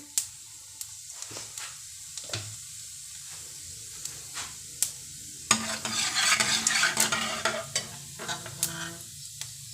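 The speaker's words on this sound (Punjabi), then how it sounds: "ਜੀਰਾ ਆਪਣਾ ਚੰਗੀ ਤਰ੍ਹਾਂ ਭੁੱਜ ਗਿਆ" Cumin seeds fry in hot oil in a pan, a soft sizzle broken by sharp stirring clinks of a utensil against metal, swelling into louder hissing midway, with no talk.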